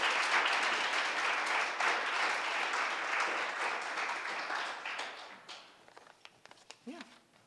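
Audience applause after a call to thank the organizers of a panel event, a dense steady clapping that swells and holds for several seconds, then thins out into scattered claps and fades.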